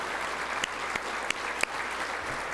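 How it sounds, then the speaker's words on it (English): Steady applause from an audience at a Special Olympics charity breakfast, an even wash of clapping with a few sharper claps standing out, continuous throughout. "So a big round of applause for our gold and presenting sponsor."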